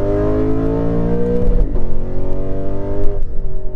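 A 2018 Lexus RC F engine pulls hard under full throttle from second gear, its rising engine note climbing steadily in pitch with a brief dip at a shift, loud and close without speech.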